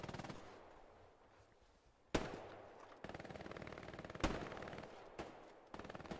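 A handful of sharp gunshot cracks sound over a low, steady battlefield rumble in the World War II shooter Hell Let Loose during a tournament match, all faint and quiet overall.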